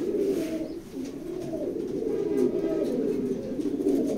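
Pigeons cooing in a pigeon loft, a steady stream of low, overlapping throaty coos that rise and fall continuously at close range.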